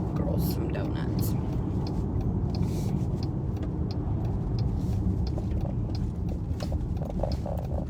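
Car driving slowly and turning around on a farm trip, a steady low engine and road rumble throughout with faint rustling, no clear talk over it.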